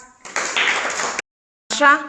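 Children clapping together in a primary classroom: a dense burst of group applause lasting about a second, followed by a short pause and then a nearby voice speaking.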